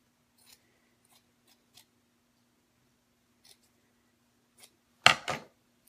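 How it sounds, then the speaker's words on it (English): Scissors cut a strip of red fabric for snowman paper piecing, with a few faint isolated snips followed by one loud, close crunching cut near the end in an otherwise quiet room. "I'm just going to cut a similar piece here"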